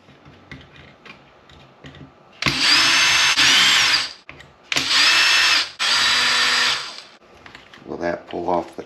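Power drill backing screws out of a Maxx RC truck chassis during a teardown: three loud, steady whirring bursts of a few seconds each, separated by short gaps, with quieter handling clicks and brief talk around them.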